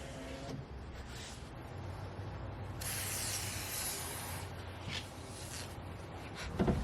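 Dupont silicone lubricant is sprayed onto a car window track, with a soft aerosol hiss building into one longer, stronger spray burst over low background noise.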